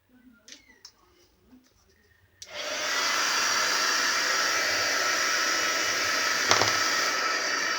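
A heat tool or dryer starts up and blows continuously to dry a tag covered in paper napkin, a steady loud whooshing hiss after a few soft handling noises.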